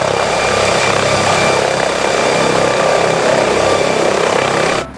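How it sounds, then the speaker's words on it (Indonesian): A toy police helicopter whirs with a steady, loud motorized buzz and rotor-like drone for about five seconds, cutting off abruptly at the end. "Widih, helikopter polisi."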